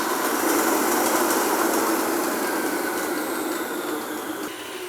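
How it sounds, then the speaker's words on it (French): A stand mixer creams vegan butter at high speed, a steady, loud whirring motor hum that holds for several seconds and eases slightly at the end. "Et on passe en vitesse rapide jusqu'à ce que le mélange soit homogène."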